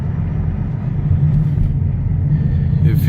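A 2017 Chevrolet Camaro SS fitted with an MSD intake manifold cruises in regular driving, heard from inside as a deep, steady engine rumble that swells slightly partway through, with faint voices talking underneath.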